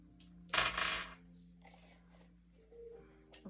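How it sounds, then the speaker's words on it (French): Dice tossed onto a surface during a tarot-style card reading: a brief, close rattling clatter of a couple of quick impacts, then quieter small knocks over a low steady hum. "Donc on va tirer les dés."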